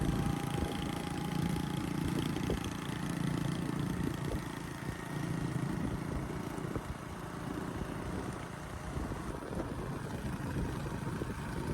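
A motorcycle engine rumbles steadily, carrying an older man and a load of goods along a road in rural Vietnam. The mid-pitched hum stays fairly constant throughout, with no talking over it.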